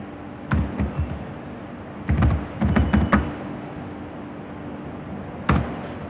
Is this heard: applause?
no